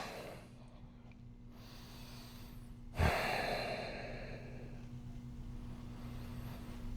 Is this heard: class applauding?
no